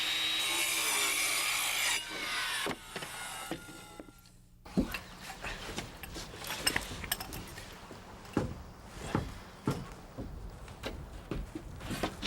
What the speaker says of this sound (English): then I cut around them by eye.